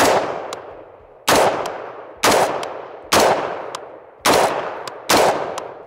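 A SOLGW M4-89 rifle with a mid-length gas system and a Nox muzzle device fires 5.56 rounds in six sharp, loud, evenly spaced shots, each with a ringing decay, alone with no talk.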